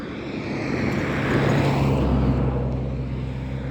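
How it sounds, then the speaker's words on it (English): Cars passing on a road, one vehicle swelling from a distant hum into a loud, close rumble that holds and then slowly eases off. "Yeah, some cars coming through"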